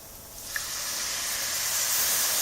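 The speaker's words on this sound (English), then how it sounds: "And now we're going to add some milk." Milk pours into a hot pan of browned sausage and flour for sausage gravy, a steady rising hiss and sizzle that builds and holds as steam spreads, close and continuous with no talk.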